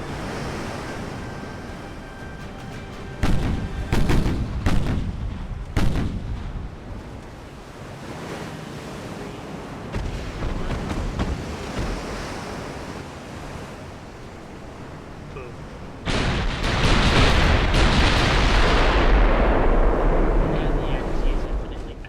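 Battleship guns fire in the naval strategy game Ultimate Admiral Dreadnoughts, heavy booming salvos and rumbling sea and wind ambience, with a loud sustained roar of gunfire late on and a player talking over it.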